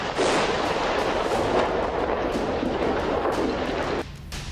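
Heavy bombing from Israeli airstrikes in northern Lebanon's Akkar area rumbles in a dense roar of booming blasts and crackling debris, loud and sustained before cutting down abruptly near the end.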